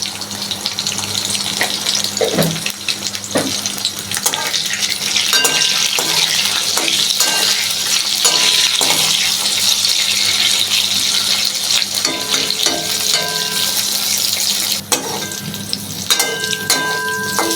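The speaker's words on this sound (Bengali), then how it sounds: "পটলগুলো একটু লাল লাল করে ভেজে নিতে হবে" Pieces of pointed gourd (potol) frying in a generous amount of oil with a little salt in a wok, giving a constant bright sizzle with occasional stirring clinks and crackles, close and steady throughout.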